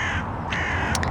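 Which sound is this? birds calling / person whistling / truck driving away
birds calling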